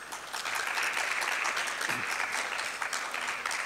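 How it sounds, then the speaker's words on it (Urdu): Steady, dense applause from a seated audience at a gathering, continuous clapping with no pauses throughout. "ان سے گزارش ہے ذرا تالیاں تیز بجا دیں"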